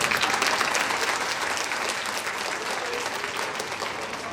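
An audience at a skin and hair care seminar in Gyanpur claps together in sustained, dense applause that stays loud from start to finish and eases off only slightly.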